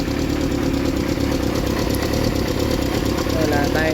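Kawasaki GPZ400 motorcycle engine idling after warming up, a steady, loud, even mechanical rumble with faint knocking that holds unchanged throughout.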